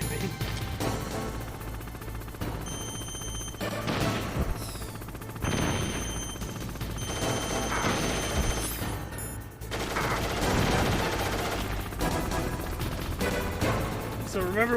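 Missiles launching and exploding in Metal Gear Solid, a dense run of booming blasts and crackling gunfire-like bursts over a steady low game rumble and music, loud throughout the clip.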